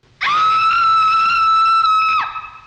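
A woman's shrill, sustained scream from the Bride in the 1935 horror film Bride of Frankenstein, loud and steady for about two seconds before cutting off abruptly.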